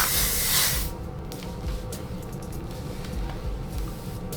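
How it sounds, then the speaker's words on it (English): Hairspray sprayed onto a glueless wig during styling, one close, loud hiss lasting about a second, then a quiet room with faint handling noises. "I hit it with some hairspray."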